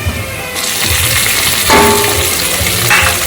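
Crushed green chillies hit hot oil in a pan while cooking a North Karnataka-style fenugreek leaf kadubu, giving a loud close sizzle that swells and crackles with stirring.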